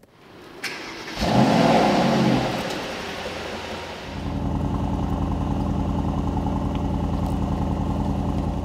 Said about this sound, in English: let's start the engine in Sport Plus